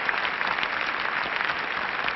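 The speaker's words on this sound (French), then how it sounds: "tandis que les applaudissements du public déferlent sur elle" An arena audience at a 1971 figure skating exhibition in Grenoble applauds warmly and steadily, a thick, continuous patter of many hands clapping without voices on top.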